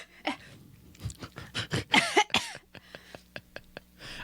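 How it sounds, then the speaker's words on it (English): Several rough coughs and throat-clearing bursts land close to a microphone in an uneven cluster, with a breathy, gravelly texture and a few short sharp taps after them. "I like how you turned the cough into the microphone."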